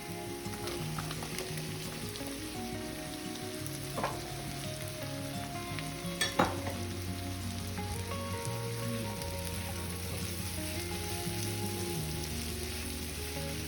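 Chopped potatoes sizzle steadily in a pan with capsicum for a capsicum aloo gravy, a close, constant frying hiss with occasional scrapes and knocks as they are stirred, and no talking.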